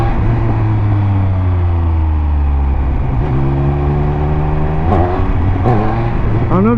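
A Triumph Speed Triple 1200 motorcycle engine revs hard and loud up close, its pitch climbing in several rising sweeps with brief drops between throttle blips.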